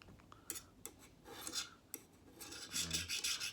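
A steel file rasps across a knife blade in a hardness test, giving a run of close, gritty scraping strokes of uneven length that grow denser and louder toward the end, with no talking.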